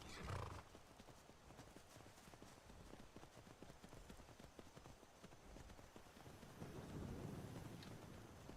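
Horse hooves clip-clopping in the video game Skyrim, a steady thudding gallop under wind-like rumble with a brief whinny at the start and no talking.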